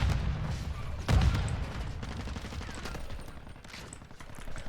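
Rapid bursts from a RAPP H light machine gun in a multiplayer shooter, a loud crack near the start followed by a rattling stream of shots with distant gunfire mixed in.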